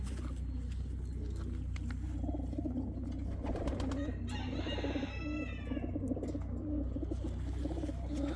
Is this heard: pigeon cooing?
yes